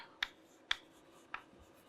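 Quiet writing on a board during a fluid-flow lecture: three short, sharp strokes or taps spaced about half a second apart over a faint room hush.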